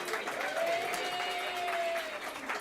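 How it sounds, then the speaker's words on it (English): Brief applause from the audience at a journalism and PR awards ceremony, steady clapping with a faint voice or tone running over it. "round of applause"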